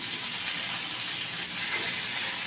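Fried potato and cauliflower pieces are stirred in a hot pan, with a steady, loud sizzling hiss filling the whole moment and no distinct scrapes standing out.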